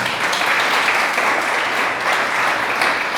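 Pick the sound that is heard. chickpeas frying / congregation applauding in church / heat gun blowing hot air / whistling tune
congregation applauding in church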